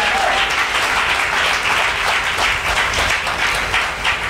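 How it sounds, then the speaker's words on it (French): A church congregation applauding to acclaim God, steady dense clapping from a crowd filling the room without a break. "Est-ce qu'on peut acclamer notre Dieu ce matin?"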